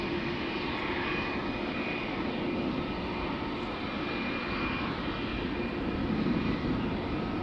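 A Vueling airliner departing Amsterdam Schiphol for Barcelona roars steadily with a broad, unbroken engine rush and a faint high whine, loud and alone.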